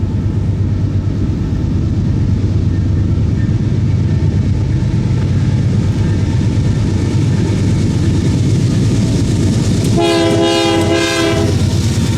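Freight train 61W with two CN locomotives rumbling loudly past at close range, a steady roar of wheels and cars, then a long blast of the horn near the end.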